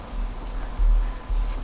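Pencil eraser rubbing back and forth on paper while working on a graffiti letter drawing, two firm close scrubbing bursts standing out from a softer, continuous scratchy friction.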